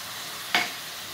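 Chicken with turmeric and salt sautéing in a pan gives one short, sharp sizzle that flares up and quickly fades, set against a quiet background.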